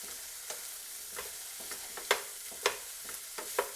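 Broccoli frying in a pan for beef and broccoli, a soft steady sizzle with intermittent sharper pops and scrapes of stirring, close and quiet with no talk.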